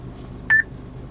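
A short electronic tone from the voice control of an Abarth 595 Turismo: a single clear beep, close and alone over faint background hum.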